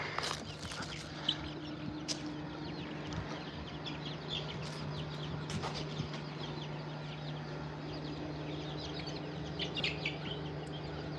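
Chickens cluck softly and intermittently on a ranch, with scattered faint calls over a steady low hum of background noise.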